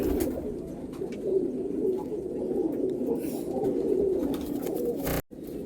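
A patta pigeon, a deep-eyed running pigeon, coos steadily and close by in a low continuous burble, ending with a sharp click near the end.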